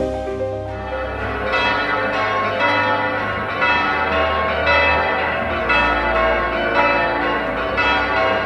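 Church bells peal across a market town in Diss, a continuous overlapping ring of several bells at moderate distance, steady and unbroken.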